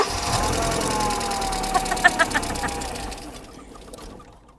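A car engine cranks over in a steady, sustained churn for about three seconds, with a few sharp clicks near the middle, then fades away as it briefly catches.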